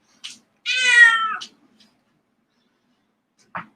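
An almost 20-year-old cat gives a short chirp, then one drawn-out, clearly pitched meow close by, followed by a brief second call a few seconds later, with quiet gaps between.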